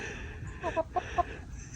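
Backyard chickens cluck close by in a few short, clipped calls that come in quick succession over a low, steady background.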